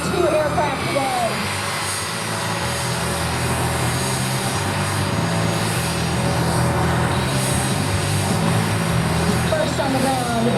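Extreme sport class race planes, including an Extreme Air XA-42, run at an airshow in Rome, Georgia, making a steady engine drone throughout while an announcer talks over the loudspeaker.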